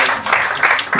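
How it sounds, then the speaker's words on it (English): Brief burst of crowd applause at a women entrepreneurs' awards ceremony honoring a lab-grown diamond industry figure, dense and fairly loud, with many hands clapping together. "A big round of applause for him."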